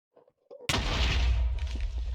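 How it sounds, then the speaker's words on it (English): A block of TNT detonates in a sandbox video game to compress steel, a sudden loud blast that rolls into a sustained rumbling roar lasting about a second and a half, following a few faint clicks beforehand. "So, after the explosion goes off, we have compressed steel."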